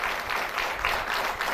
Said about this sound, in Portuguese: Um aplauso para os três